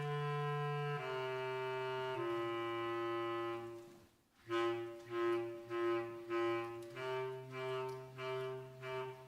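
Bass clarinet played by a school band student at a sixth grade concert: long sustained low notes stepping down in pitch, then a brief pause followed by a series of shorter repeated low tones, clear and alone.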